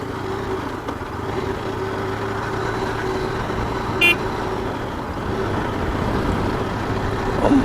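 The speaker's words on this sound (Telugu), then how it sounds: "లారీ వచ్చేస్తుంది, మనం వెళ్ళిపోవచ్చు." A lorry rolls along a rural road between Ramayapatnam Port and National Highway 16 as a steady, broadband engine and road rumble. A short horn toot sounds midway and the noise swells slightly toward the end.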